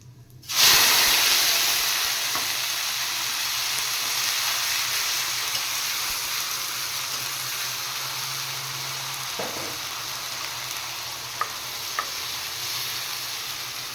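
A paste of cumin, ginger and garlic drops into hot oil with bay leaves and whole cumin for a fish curry and bursts into a loud, sustained sizzle. The frying hiss fades slightly over time, with occasional stirring clinks and no voices.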